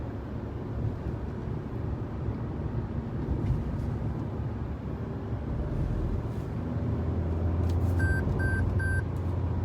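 A 2023 Toyota Highlander XLE AWD sounds a warning chime of three evenly spaced beeps near the end, standing out over steady road and engine rumble while driving.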